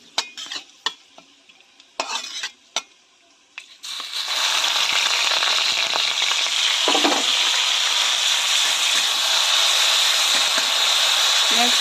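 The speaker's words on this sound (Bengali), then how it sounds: "এবার এতে পেঁয়াজ ভাজাটা দিয়ে দিই" Fried onions go into hot spiced oil for aloo dum, and after a few sharp clinks and scrapes a loud, continuous sizzle rises and holds steady, with occasional stirring beneath it.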